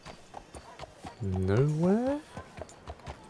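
Horse hooves clip-clopping in the video game Red Dead Redemption 2, soft and steady under a voice, with a horse's drawn-out neigh rising and falling in the middle.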